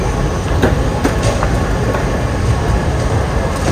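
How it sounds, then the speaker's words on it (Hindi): A Dubai Metro train arriving at a station, with a loud steady rumble of wheels on track and faint clattering throughout, no voices. "तो ये वाली मेट्रो आ गई अपनी"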